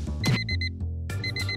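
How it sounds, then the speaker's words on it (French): An alarm clock rings with bright electronic beeps in short repeated bursts, loud and close, with a pause between two rounds of ringing. "le méchant réveil va tout gâcher comme d'habitude"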